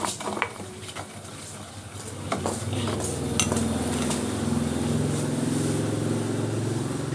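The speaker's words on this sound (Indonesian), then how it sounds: "Kita aduk aja sampai rata." A flour slime mixture stirred until smooth, spoon clinking and scraping against the bowl with a steady rhythmic churning, close and fairly loud.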